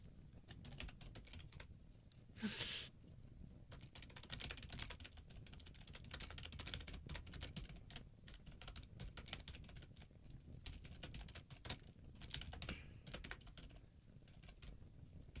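Fingers type on a computer keyboard, producing quiet, rapid, irregular clicks in bursts throughout, close and faint, with one brief louder knock early on and no talking.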